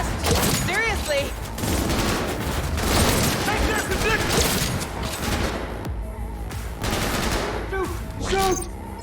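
Rapid automatic gunfire in the video game Cyberpunk 2077, loud dense bursts of shots with a voice calling out over the firefight.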